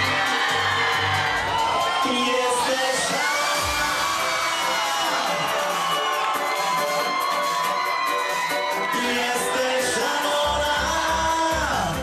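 A concert crowd cheers, whoops and applauds for a Polish band, a loud, dense, continuous roar of voices and clapping throughout.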